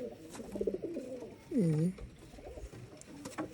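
A Kamagar pigeon coos once, close and clear in a short throaty rolling call, with quieter background noise and softer sounds before and after.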